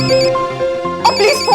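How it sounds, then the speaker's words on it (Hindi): A phone ringtone plays a bright, repeating electronic melody, loud and close, over a short stretch with no talking. "और प्लीज फोन उठाओ, मैटी का फोन है।"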